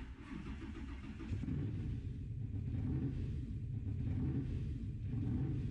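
A supercharged V8 engine in a motorized couch mod, likely a driving-game vehicle, runs with a steady deep rumble that swells slightly after the first second, loud and close with no talk over it.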